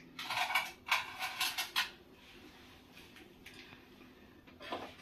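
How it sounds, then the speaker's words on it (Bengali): Ceramic cake cups set one after another into a covered pan, giving a run of clinking, clattering knocks in the first couple of seconds, then quieter handling and one more clink near the end. "এই একটা করে কাপ আমি দিয়ে দিচ্ছি।"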